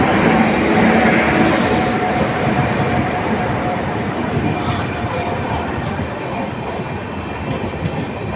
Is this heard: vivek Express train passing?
yes